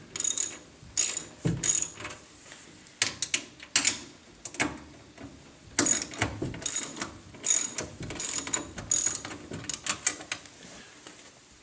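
Ratchet wrench loosening the nuts on the glass bracket posts of a direct vent see-through fireplace, giving close bursts of rapid clicking in several separate runs.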